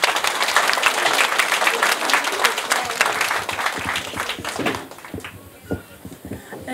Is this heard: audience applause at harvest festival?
yes